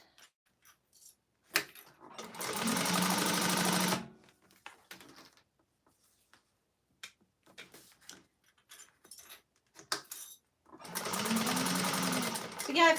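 A Titan sewing machine stitching textile runs in two steady bursts of about two seconds each, close and whirring, separated by quiet handling clicks and brief talk.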